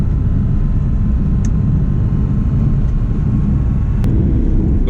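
Steady low engine drone and road rumble from inside a Volkswagen Polo Mk1 driving slowly through a bend in fourth gear, with a couple of faint clicks and no talking.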